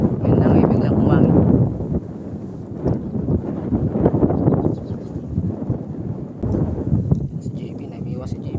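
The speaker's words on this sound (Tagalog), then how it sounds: "Ngayon lang eh, biglang humangin." Strong wind buffeting a boat out on Laguna Lake, loud gusty roaring against the microphone that rises and falls, with low rumbling throughout.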